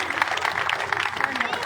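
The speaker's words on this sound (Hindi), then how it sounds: "एक बार जोरदार ताली आप सब साथी बजा दे।" A brief, dense burst of crowd clapping at a village rally, continuous for under two seconds, with a voice over it.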